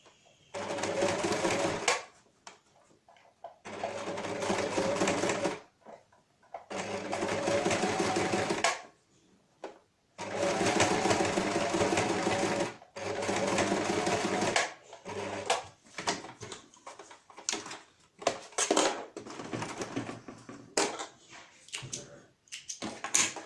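A sewing machine stitches a narrow topstitched seam on a fabric face mask, running in several bursts of rapid whirring separated by short pauses, with choppier, stop-start stitching toward the end.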